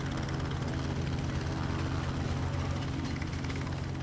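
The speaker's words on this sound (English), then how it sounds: "Oh, here's our helicopter." A helicopter in Farming Simulator 19 on the Sandy Bay map, a steady whirring rotor drone with a fast chopping pulse, fairly faint and continuous throughout.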